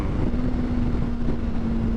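A motorcycle fitted with a quick shifter rides in bad weather, a loud continuous engine drone with a steady low hum and rushing wind noise, close and unbroken, with no talk.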